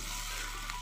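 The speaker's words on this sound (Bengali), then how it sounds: "তো আমি জল দিয়ে দিয়েছি কড়াইতে" Water hits a hot kadai holding snail meat and potatoes, giving a brief, quiet burst of hissing sizzle.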